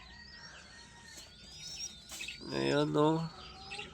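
A pet parakeet gives thin, high chirps and squeaky calls close to the microphone while someone talks softly over them.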